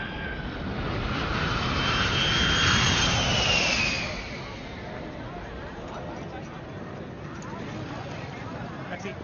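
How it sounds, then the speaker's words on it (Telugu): An airplane's jet engines roar and whine during take-off, swelling to a loud peak and then easing into a steady lower rumble. Voices are heard over the noise. "the flight is taking of"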